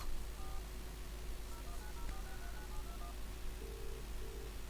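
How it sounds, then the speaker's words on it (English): A telephone being dialed in the video game Broken Sword 3, with a quick run of clear, faint keypad tones followed by two longer steady tones like a line ringing, heard alone over a quiet hum. "Perhaps I should make a call."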